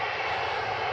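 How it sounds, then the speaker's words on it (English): A Jet2 Holidays airliner at Glasgow Airport roars with a loud, steady engine rumble and broad hiss, close and continuous through the short moment with no talking. "There's another Jet 2 Holidays branded plane."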